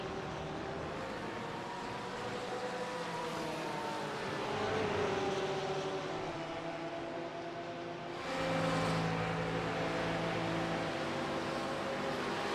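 GT3 race cars at Algarve running down the front stretch in a slipstream: a continuous blended engine roar from several cars, steady and moderately loud, swelling as one passes closer partway through, with no talking.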